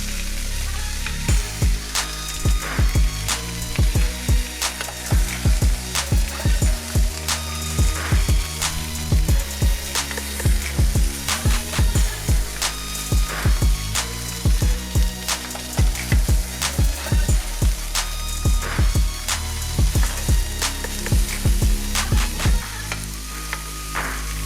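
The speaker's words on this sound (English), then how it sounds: "we're gonna go ahead and get our brats flip. Give them that little flippy flip. Flip in that pan, y'all." Bratwursts fry in a pan with a steady loud sizzle, while repeated sharp knocks and scrapes of a utensil flipping them punctuate the sizzling throughout, with no one talking.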